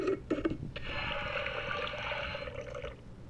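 A blender whirring as it blends hot-sauce-covered bread in the cartoon cooking game Toca Kitchen 2, a steady buzzing hum lasting about two seconds after a few short clicks, heard alone with no talk.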